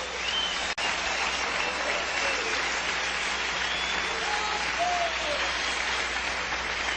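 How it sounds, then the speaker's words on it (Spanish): A church congregation gives loud, sustained applause for the King during a sermon, dense clapping throughout with a few cheers and whoops on top. "Démosle un aplauso bien fuerte al Rey."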